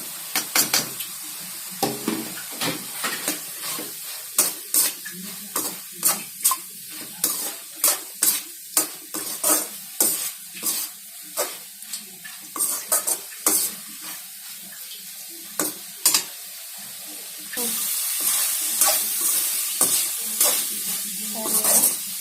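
Carrot, bean and radish poriyal being stirred in a pan, with repeated sharp scraping strokes over a steady sizzle that swells louder toward the end, close and without talk.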